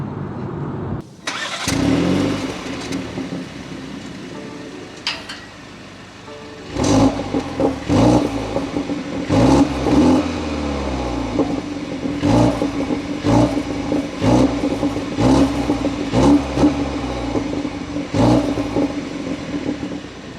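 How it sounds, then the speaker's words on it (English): A 2021 BMW 430i starts from cold, its engine catching and settling into a loud idle before a series of sharp revs rise and fall in repeated bursts close to the car, with no talking. "with that cold start, that actually was pretty interesting, and doing those revs just to get those cracks and burbles"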